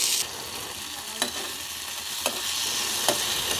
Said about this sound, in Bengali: ফ্রাইং প্যান বসিয়ে দিয়েছি গ্যাস ওভেনে তার সাথে দেব কারি পাতা